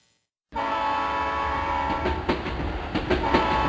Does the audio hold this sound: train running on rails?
yes